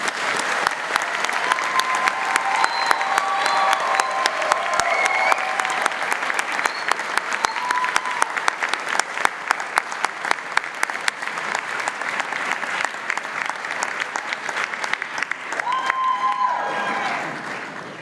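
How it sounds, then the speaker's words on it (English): A large crowd at the 2017 Murdoch University Dubai graduation ceremony applauds its graduates in a long, dense, steady burst that stays loud and even before tapering slightly at the end. "join me in a congratulatory round of applause for our graduates"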